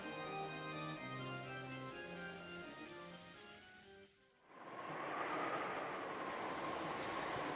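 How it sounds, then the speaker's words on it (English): Heavy rain pours down while the wind eases, a dense, steady hiss that swells in after a soft melodic passage fades out halfway through. "The rain was so awful, but fortunately the wind had died down a little."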